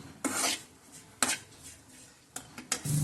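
A spoon stirs chaat masala, salt and chili flakes in a bowl: three or four bursts of gritty scraping against the bowl, each ending in a metallic clink, with short quiet gaps between and no talking.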